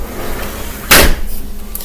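A single door is pushed shut with one brief, close thud against a faint background hum, with no voices.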